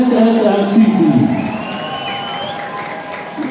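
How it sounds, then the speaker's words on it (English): A stadium crowd at a Shillong Lajong FC football event claps and cheers for the players, with whoops and shouting in a steady, dense roar that swells and eases across the moment, loud and close. "Let's give a round of applause, ladies and gentlemen, for the players of Shillong Lajong FC"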